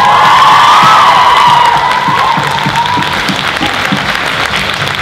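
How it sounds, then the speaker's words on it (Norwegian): A school theatre group's all-hands meeting bursts into loud applause and cheering for Erika, with dense clapping, whoops and shouts from a lively crowd close by. "Så jeg tenker vi gir henne en stor applaus."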